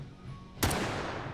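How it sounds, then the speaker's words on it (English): A single sharp, loud bolt-action rifle shot fired in a virtual reality shooting game, a sudden crack followed by a lingering tail of echoing noise. "it's a bolt action rifle"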